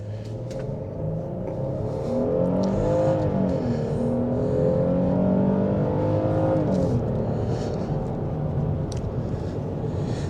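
Heard from inside the cabin, a 2026 Hyundai Palisade XRT accelerates at full throttle, its engine droning loud and steady and rising in pitch through gear changes, with no talk.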